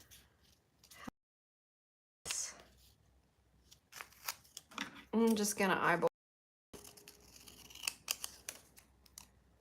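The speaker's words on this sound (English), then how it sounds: "Oh, I'm glad you like the paper being cut sound." Scissors snip through paper in a few close, crisp cutting bursts, with a person talking softly before and after the cuts.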